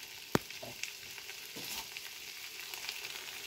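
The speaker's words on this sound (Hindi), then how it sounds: "अभी इसको तेल में डाल के इसके ऊपर हल्दी और नमक डाल के फ्राई कर दिया जाएगा इसको" Brinjal slices fry in hot oil with turmeric and salt, giving a steady close sizzle with a sharp scrape or clink near the start and a few softer utensil knocks.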